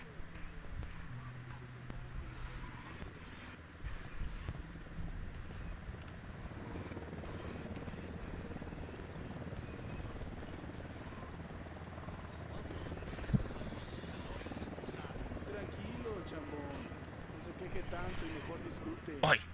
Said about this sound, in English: I can hear a helicopter.